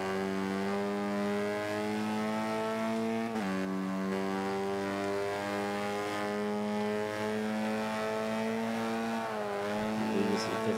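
A Mini Cooper S engine in Forza 5 holds a steady high-rpm drone in fifth gear, a loud, continuous tonal whine that briefly dips with a shift-like break midway and again near the end.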